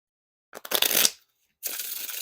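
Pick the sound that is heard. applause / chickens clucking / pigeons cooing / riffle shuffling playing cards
riffle shuffling playing cards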